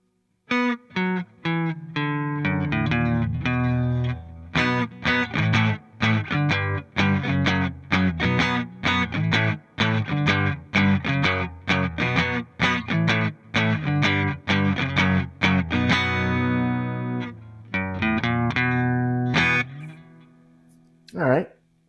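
Electric guitar strummed through a Melonare GA-CB1 cable, a steady run of chords with faint crackle and static underneath, close and loud, ending with a final ringing chord.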